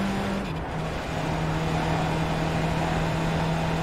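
Steady race car engine drone at Mount Panorama in iRacing, a Skip Barber car holding a constant note near and loud, with a brief gear change early on and no talk over it.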